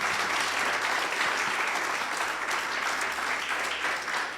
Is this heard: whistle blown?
no